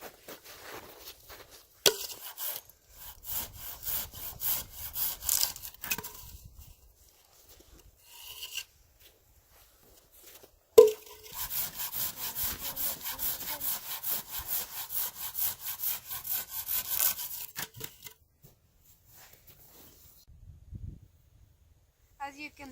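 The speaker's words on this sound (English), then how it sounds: "we got our 8 pieces here for the legs, equally cut and cut straight" Hand saw cutting wooden pieces for bushcraft table legs outdoors, steady back-and-forth rasping strokes in two long runs, moderately close, with brief pauses between them.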